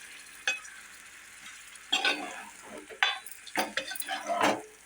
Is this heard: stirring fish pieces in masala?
yes